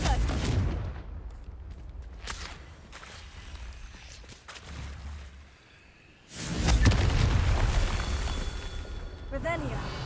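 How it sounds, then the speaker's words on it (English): Confringo explosion spell cast in the video game Hogwarts Legacy, a loud burst of blasts at close range that swells midway and rumbles on under game sounds, alone without talk. "Confringo."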